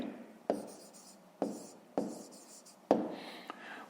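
Pen strokes scratch across paper as a fifth-grade math exercise is written out by hand, a few quiet separate scribbles with short sharp taps between them, close and alone.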